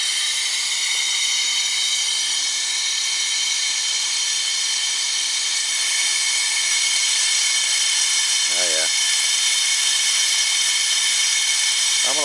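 An AC vacuum pump pulling a vacuum on a 2006 Dodge Caravan's air conditioning makes a steady, loud mechanical whir with a broad hiss throughout, constant and close, with a brief spoken remark near the end.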